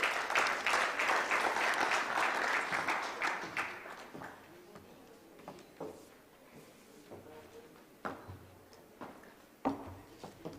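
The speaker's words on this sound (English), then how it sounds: "Let's give her a round of applause." Audience applause at an opening ceremony of an AI conference, a dense burst of clapping that fades after a few seconds into scattered single claps and small room noises, with faint talk.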